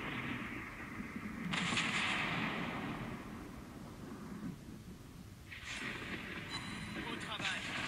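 Heavy booming naval cannon blasts from an Italian cruiser in World of Warships Blitz, two bursts a few seconds apart, each with a rumbling, crackling roar, over a low continuous engine hum.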